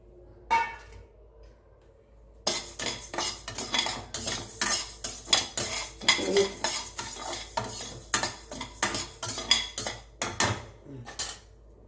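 Raw rice dry-roasting in a pan, stirred with fast, dense rattling and scraping of grains and utensil against metal after a quieter opening, close and continuous, with no talking.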